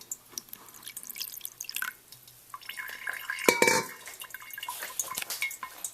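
Liquid trickles and drips through coffee filters held in a funnel with clothespins, a soft irregular patter of close drops with a brief louder splash midway, all fairly quiet.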